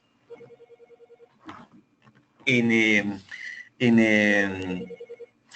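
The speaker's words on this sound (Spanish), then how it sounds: "Voy a disminuir el volumen del teléfono" A telephone rings with a quick pulsing electronic tone at first, followed by two long loud bursts of ringtone, with brief speech in between.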